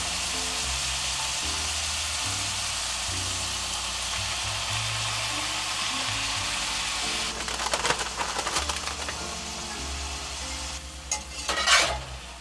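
Tomato sauce sizzles steadily in a pan inside a pickup truck camper, over a low background hum. Scraping utensil sounds and louder spattering bursts rise partway through and again near the end.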